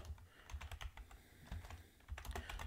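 Keys clatter on a computer keyboard as text is typed in quick, uneven bursts with a short pause in the middle, close and fairly quiet, with no one talking.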